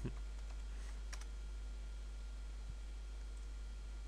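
Faint, steady typing on a computer keyboard, with a short flurry of key clicks at the start and a few isolated taps afterward over a low background hiss.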